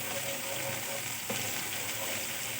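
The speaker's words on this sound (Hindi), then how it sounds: "अब हम इसको फ्राई करेंगे।" Roughly cut green chillies fry in a pan, giving a steady, even sizzle with a faint stir partway through.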